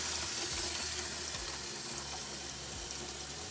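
Tap water pours steadily into a basin for a modified bed bath, a constant loud rushing splash that never lets up and has no voices over it.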